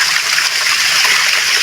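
Water rushes loudly and steadily in a stream beside an old tunnel, a close, dense splashing flow with no let-up.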